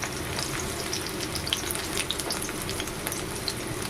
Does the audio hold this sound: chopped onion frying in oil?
yes